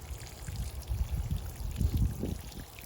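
Water poured from a watering can onto the soil of a tree berm during a fall tree planting, a soft low splashing trickle that swells in bursts toward the end, close by with no talk.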